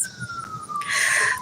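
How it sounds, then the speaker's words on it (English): An ambulance siren wails outdoors, a single sustained tone drifting slightly in pitch across the short stretch, moderately loud behind a faint background. "sounds like a ambulance."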